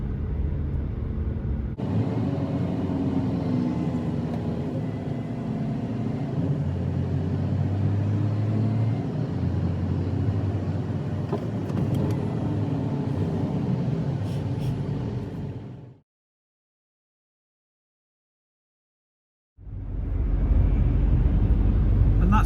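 A truck in a Euro trucking simulator rolls through a tunnel with a steady, enclosed low engine rumble and road drone. The sound drops out to silence for a few seconds, then resumes.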